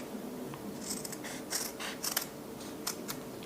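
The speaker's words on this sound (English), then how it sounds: "Let me just cut this up." Scissors snipping through embroidery scrap fabric, a handful of short crisp cuts spaced irregularly over a quiet room background.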